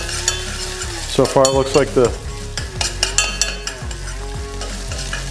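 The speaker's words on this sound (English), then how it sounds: "we're gonna get our ginger and garlic down. I'm gonna get that sauteed up." Ginger and garlic sauté on a hot Halo Elite4B griddle, a loud close sizzle with repeated metal spatula scrapes and clanks across the flat top, and someone speaking briefly over it.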